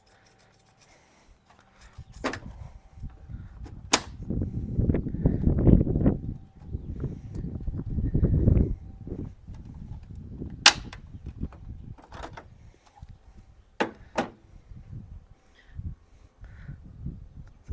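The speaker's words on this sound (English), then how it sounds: "Well, you heard it clip at least." Plastic clips on a Chevy Colorado headlight snap into place during a headlight replacement, giving a few sharp, isolated clicks over low handling and rubbing noises, fairly close.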